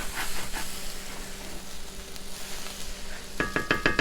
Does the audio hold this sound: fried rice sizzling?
yes